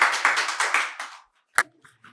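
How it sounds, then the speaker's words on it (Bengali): Audience applause at a quiz competition held at a medical college and hospital, a short burst of rhythmic clapping that fades out after about a second, followed by a few scattered claps. "সবাই জোরে হাততালি"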